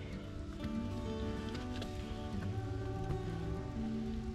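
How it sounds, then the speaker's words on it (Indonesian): Light rain and drizzle falling at Candi Sukuh, a stone temple at the foot of Mount Lawu in Karanganyar, a steady soft patter close around under a broad outdoor wash. "dan ini juga sudah mulai turun hujan dan gerimis"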